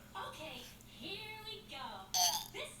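A small child lets out a few short voiced burps in a row, close and fairly loud, ending with a sharper, louder burst.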